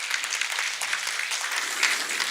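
Audience applause at a Buddhist press culture awards ceremony: dense, steady clapping from a crowd filling the hall, holding an even level throughout without voices.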